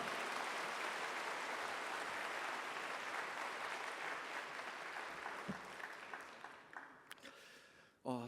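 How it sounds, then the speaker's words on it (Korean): A church congregation at a Korean Sunday worship service breaks into sustained, dense applause to welcome a pastor, steady at first, then thinning and fading out near the end. "우리 큰 박수로 목사님 모시도록 하겠습니다."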